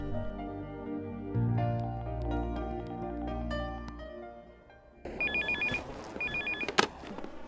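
A telephone rings in a film scene as someone places a call, a repeated electronic double-trill bell pattern coming in after a stretch of background music, fairly loud and clear with no talk over it.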